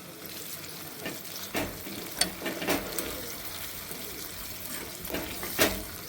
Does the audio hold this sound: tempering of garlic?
yes